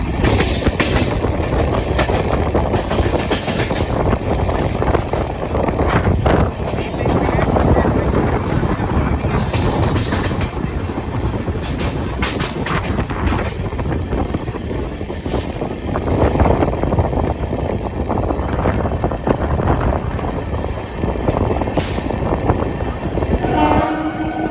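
The Bilaspur Tirupati Express, running with LHB coaches, crosses another train near Bhatapara with a loud, continuous rumble of wheels and passing coaches, sharp clanks and a horn blast or two, while a voice talks over the noise.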